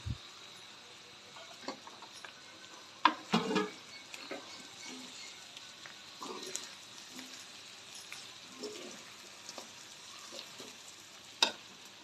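Chicken with curry leaves fries in a pan for fry piece chicken biryani, giving a faint, steady sizzle with scattered clinks and scrapes from stirring and no one talking.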